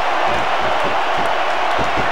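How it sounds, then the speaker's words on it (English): Crowd roar in the wrestling video game SmackDown vs Raw 2006, a loud, continuous wash of cheering arena noise with a few dull thuds underneath. "Now the fans start to cheer for him."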